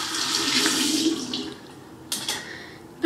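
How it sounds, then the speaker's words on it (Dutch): A dirty comb rinsed under a running bathroom tap, with a steady splashing stream that fades midway, followed by a couple of brief sharp spurts of water near the end. "En dan is je kam een beetje vies, dus dan doe je gewoon onder de kraan."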